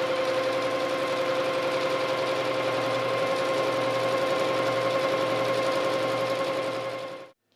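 A sewing machine stitching the side hem of a fabric valance, running steadily and loud with a fast, even mechanical hum that continues without a break, then stops abruptly.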